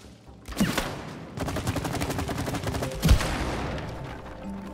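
Gunfire at shooting targets in the co-op video game It Takes Two, a dense run of rapid shots firing continuously for several seconds, loud and close, with a heavier blast near the end.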